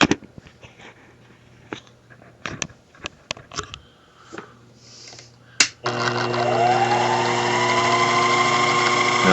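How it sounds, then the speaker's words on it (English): A Sherline mill fitted with a sensitive drilling attachment gives a few scattered clicks and knocks, then the motor starts abruptly and runs with a steady, close mechanical whir and whine. "And then when I turn it on, I pull this down."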